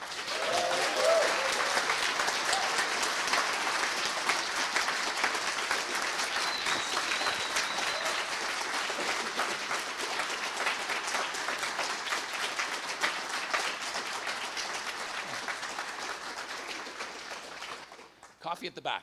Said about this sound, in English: Giant round of applause for Blaine.